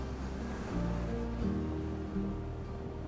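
Waves break on Sandwood Bay beach in Scotland, a broad continuous wash of surf with low rumbling swells and wind noise, steady and moderately loud with no voices.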